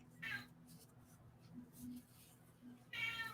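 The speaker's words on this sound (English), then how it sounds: "You're Midna meowing." A pet cat meows twice, with a short cry near the start and another near the end, both soft against a low background hum, with faint movement sounds between them.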